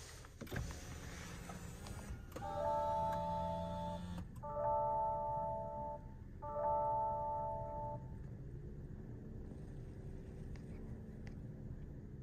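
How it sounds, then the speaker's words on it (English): A 2024 Lexus TX500h F Sport hybrid starts up inside the cabin, with repeated electronic chime tones over a low hum, a faint mechanical whir, and then a quiet steady idle. "Let's go ahead and start the vehicle."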